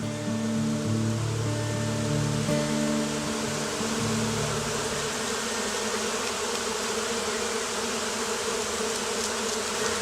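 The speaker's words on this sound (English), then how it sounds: "We have up here just an entire colony of bees creating some type of amazing magnetic force field around this tree." Dense, steady hum of a colony of bees swarming around a tree, a continuous buzzing drone heard close and fairly loud, with no talk.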